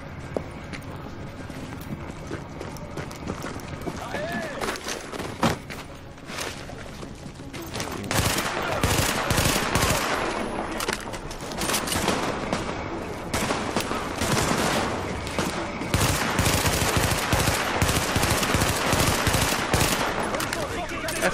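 Bursts of gunfire in The Division during an early mission against bandits, rattling and cracking close by, intermittent at first and then dense and sustained, with game sounds and music running underneath.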